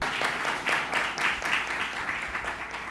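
An audience in a French-language broadcast studio applauds steadily, a dense wash of clapping running for a few seconds at moderate level with no voices over it.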